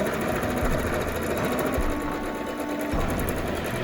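A sewing machine lock stitches a rectangular pleated fabric mask with a steady, fast mechanical whirr and rattle that runs without a break, close and loud, briefly easing near the end.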